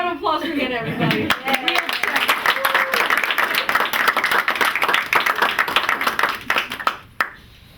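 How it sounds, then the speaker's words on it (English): An audience claps for Hannah, dense steady applause following a brief spoken line, then tapering off sharply near the close. "One more round of applause for Hannah, everybody."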